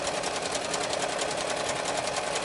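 Sewing machine running fast and steady, stitching straight seams on an Elizabethan doublet mock-up, a continuous rapid whirring rattle with no pauses or voices.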